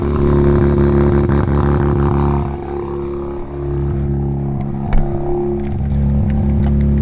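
A new car with only 79 kilometres on it, still being run in, has its engine running steadily and close by on a hot day, with a low harmonic hum that dips briefly mid-clip, then resumes under a light knock.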